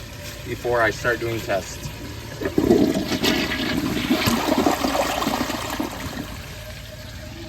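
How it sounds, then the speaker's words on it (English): A 2019 Glacier Bay dual flush toilet flushes close by with a loud rushing swirl of water that builds and then drains away, after someone speaks briefly at the start. "I'm going to give it a flush"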